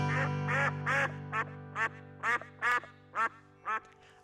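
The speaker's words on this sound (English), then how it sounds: "Fed my duck under yonder tree, and the duck says" A duck gives a series of about nine short, evenly spaced quacks over a sustained musical tone, each call distinct and fairly loud.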